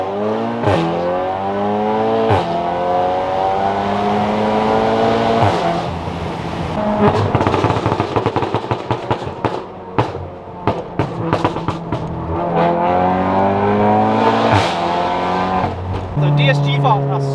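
Crackling pops from the exhaust of a Volkswagen Golf R Mk7 burst in quick clusters during DSG gear changes, loud and close over a droning engine note.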